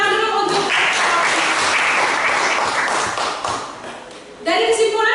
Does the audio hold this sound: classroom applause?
yes